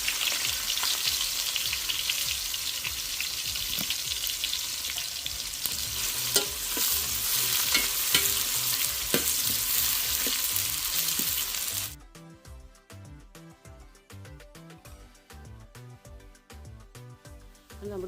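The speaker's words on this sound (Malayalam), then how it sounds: "എണ്ണ നല്ലപോലെ ചൂടായിട്ടുണ്ട്. അതിലേക്ക് 2 ചെറിയ സവോള നീളത്തിലരിഞ്ഞത് അത് നമുക്ക് ഇട്ട് കൊടുക്കാം." Two small onions sliced lengthwise frying in hot oil for a Malabar mutton dum biryani: a loud, continuous crackling sizzle with scraping stirs, which then cuts to a quieter, steadier frying texture near the end.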